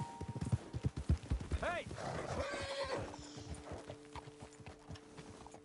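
Horses in Red Dead Redemption 2 clatter along with rapid hoofbeats, then one neighs shrilly. Game sounds fill the background, and a voice shouts once.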